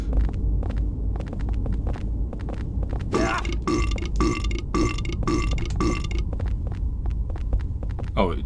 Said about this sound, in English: And they just do that weird burping